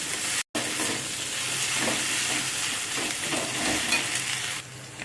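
Ginger and garlic sautéing in a pan, a steady sizzle with soft scraping stirs, after a brief dropout near the start, no talking.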